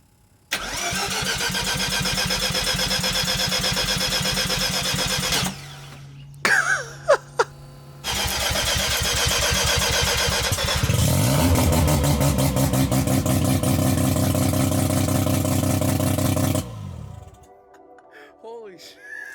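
A Mazda RX-7 engine running with the exhaust removed starts and roars loudly with a raw, unmuffled rumble, cuts out briefly, then restarts and revs hard before settling to a rough idle.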